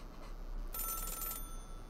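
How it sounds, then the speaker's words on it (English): A payphone at a gas station rings inside the video game Celeste, a single bright, buzzing ring burst lasting under a second over quiet game background, with no talking. "Wait, why is there a telephone ring?"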